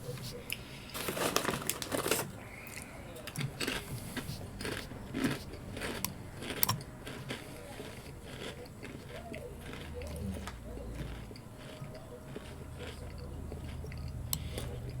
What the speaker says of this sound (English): You all probably gonna hear me crunching along.